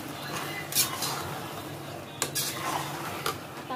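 Utensil scraping and clinking against a pan as masala with kasuri methi is stirred and turned over, a few distinct clanks over steady low kitchen noise.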